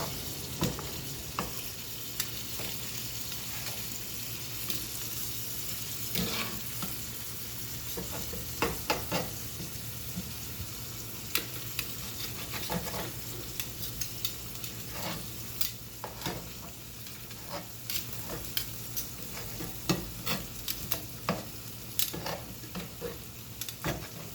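Bits of chopped sausage meat sizzle steadily in a pan for spaghetti sauce, a constant bright crackle with frequent spoon scrapes and taps against the pan, nearby with no talking.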